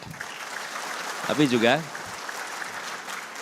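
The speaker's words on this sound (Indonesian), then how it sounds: "boleh tepuk tangan" An audience at a national meeting claps steadily and softly from a distance in a large hall, and a voice speaks briefly over the applause partway through.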